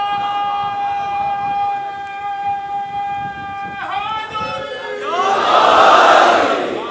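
Crowd at a religious speech by Allama Ali Raza Rizvi raising slogans, starting with a sustained siren-like tonal drone that breaks into a loud swelling roar of many voices near the end.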